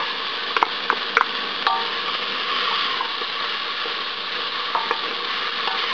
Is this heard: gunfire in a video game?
no